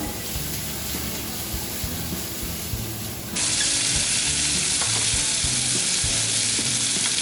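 Garlic butter prawns frying in a pan give off a dense, loud, steady sizzle with faint stirring clatter underneath; partway through, the pan is shaken and the hiss jumps brighter and louder and stays that way.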